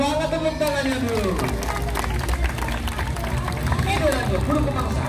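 An audience claps steadily at a bird show at Taman Safari Bogor in Indonesia, a dense, continuous patter with an announcer talking over it throughout.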